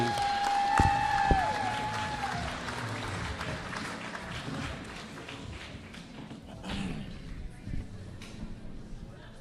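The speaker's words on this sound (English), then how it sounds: "One more round of applause for all of our game changers this year" Audience applause at an awards ceremony for local urban game changers, a crowd clapping steadily with a few thumps and a short tone at the start, fading gradually toward the end.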